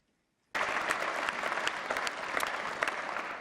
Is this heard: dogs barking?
no